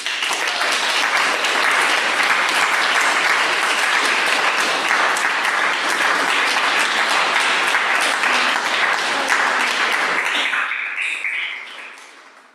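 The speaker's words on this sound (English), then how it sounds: "Let's have another round of applause for Kathryn Cowles." Sustained audience applause at a poetry reading for Kathryn Cowles, loud and dense for about ten seconds, then tapering off into a few scattered claps.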